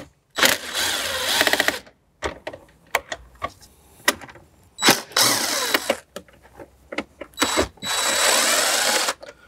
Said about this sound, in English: we can remove four 7 mil screws from the outside of the radio